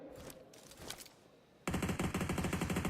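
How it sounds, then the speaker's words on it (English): Gunfire in a PUBG Mobile esports tournament match, starting as scattered distant shots and then breaking into a loud, rapid automatic burst of evenly spaced rounds, with no talking. "Mafioso barely can peek out before the bullets whiz past his forehead"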